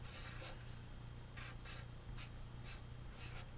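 Pen strokes writing the word dad on a Father's Day craft card, a few short scratchy bursts of marker or pen across paper, close and quiet over a steady low hum.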